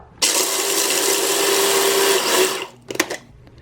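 Food processor coarsely grinding almonds for granola in one loud, steady burst of about two and a half seconds, then stopping, followed by a few short clattering pulses.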